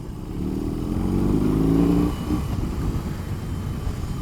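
BMW R18 motorcycle with its big boxer engine revving up through a rising drone over about two seconds, then dropping back to a rumbling idle-like throb, close and fairly loud, with no talk.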